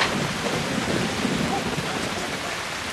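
A thunderstorm with steady heavy rain, a dense continuous wash of falling drops with low rumbling underneath, loud and enveloping throughout, with no talking.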